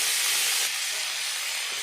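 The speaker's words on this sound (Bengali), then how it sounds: "আলু আর ডুমুরটা একটু ভেজে নেব" Potatoes and figs fry in a pan of hot oil with a loud, steady hissing sizzle up close, easing slightly partway through, with no talking.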